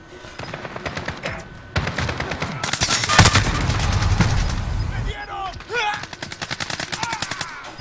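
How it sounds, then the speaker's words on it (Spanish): Rapid machine gun bursts in a video game, long rattling strings of shots near and loud with a heavy blast in the middle, while voices and game chatter sound in places. "Sí, esta ametralladora puede mejorar, güey, bastante"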